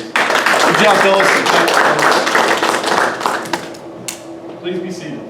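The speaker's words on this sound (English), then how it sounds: "Let's give a round of applause to our newest Dirt Boys." A crowd claps loudly for newly graduated Air Force airmen at a ceremony, dense applause that fades after a few seconds, followed by a few scattered claps and voices.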